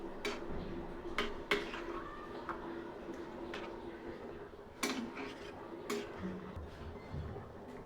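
Chicken stirred with green coriander paste in a pot on high flame, with intermittent clinks and scrapes of a utensil against the pot amid faint background noise.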